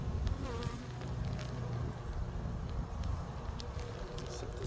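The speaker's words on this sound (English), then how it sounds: "There's a lot of bees here" Dense, steady buzzing of many honeybees swarming close by, a continuous droning hum with no talking.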